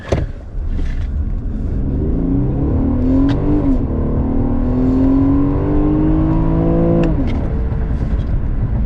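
An Infiniti Q50S Hybrid engine revs hard launching from a standstill in manual mode, its pitch climbing steadily through first gear, dipping at the shift to second, then rising again, loud and close.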